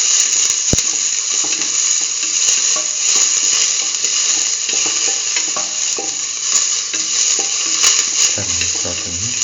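Onion pieces sauté in a pan for mustard okra rice, making a loud, continuous hissing sizzle with scattered light clicks and stirring knocks, close and without speech.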